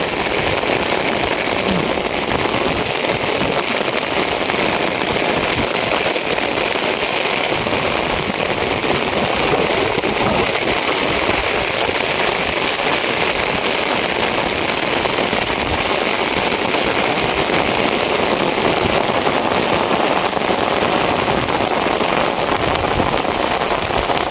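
Heavy rain pours down in a dense, continuous hiss and patter that stays loud and unbroken throughout.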